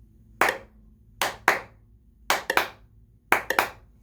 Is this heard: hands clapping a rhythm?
yes